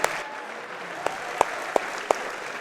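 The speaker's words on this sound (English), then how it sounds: "How about a round of applause for both competitors going the distance here?" A crowd at a mixed martial arts event applauds two fighters after a three-round bout, a steady wash of clapping and cheering with several sharp individual claps standing out close by.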